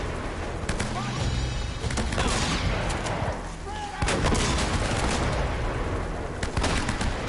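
Shotgun blasts in an Uncharted game firefight, repeated heavy booms among dense gunfire and explosions, with a player talking over the action.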